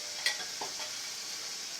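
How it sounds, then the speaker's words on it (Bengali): Onion frying in a pan with ginger, garlic, turmeric, chili powder, salt and coriander powder for an egg curry, stirred with a couple of scraping strokes over a steady, soft sizzle. "আমি একটু লাড়া দিয়ে দিলাম"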